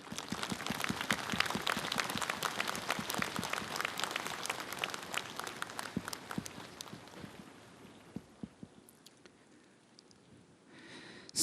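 A large crowd at a nationwide Buddhist monks' assembly applauds loudly and steadily to welcome the head monk to the stage. The clapping fades over the last few seconds into quieter scattered claps.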